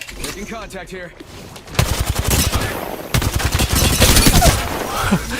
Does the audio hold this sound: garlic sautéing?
no